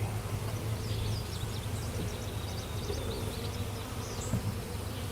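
Honey bees drone in a dense, continuous buzz around an opened hive, a close swarm-like hum with occasional louder passes of individual bees and faint handling noise beneath.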